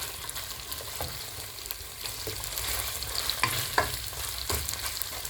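Fatty pork frying in a pan: an even, crackling sizzle runs throughout, broken by several sharp spatula stirs and knocks, close up and without speech.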